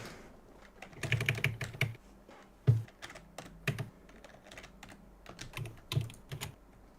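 Rapid, clattering bursts of typing on a loud computer keyboard, close and uneven in rhythm, with sharp key strikes and short pauses between runs and no talking.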